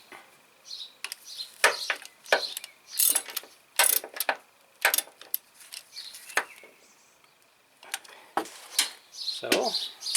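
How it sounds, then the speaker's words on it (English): Ratchet wrench loosening the timing belt tensioner on a 2005 Hyundai Accent: several short bursts of rapid clicking, close and crisp, separated by pauses, with no talk. "Now I must bring the tensioner in loosened position."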